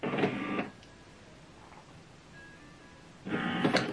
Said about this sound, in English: it's preparing the printer.